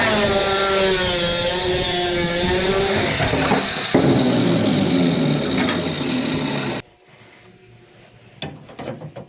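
A brace behind the dash of a 1967-72 Chevrolet C/K series truck being cut out: a loud, continuous grinding cut of metal for about seven seconds, then it stops abruptly, leaving faint clatter and handling noises.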